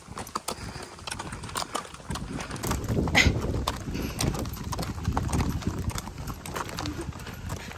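Hooves of horses clip-clop steadily at walking pace near at hand, with a brief whinny somewhere in the mix and occasional low background noise.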